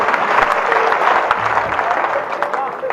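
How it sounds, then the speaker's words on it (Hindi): Audience clapping at a Haryanvi comedy poetry gathering, busy, uneven applause from the crowd with a voice faintly mixed in beneath. "हाथ उठा के ताली बजनी चाहिए साहब"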